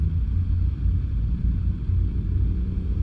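Truck traffic rolling past on a highway in American Truck Simulator, a steady low rumble of heavy engines and road noise, dense and continuous with no distinct individual passes.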